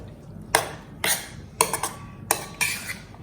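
Spoon clinking and scraping in a bowl while capsicum is mixed into a masala marinade for green paneer tikka, with about five distinct clanks spaced roughly half a second apart, close and fairly quiet.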